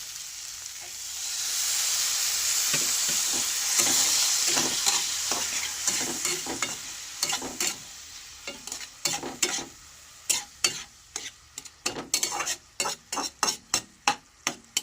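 Masala with turmeric and a little water being sautéed in a pan for a spicy boal fish curry: a loud hiss of sizzling at first that fades, then a run of quick spatula scrapes and taps against the pan.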